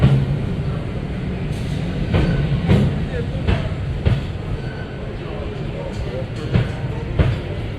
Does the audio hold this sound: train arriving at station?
yes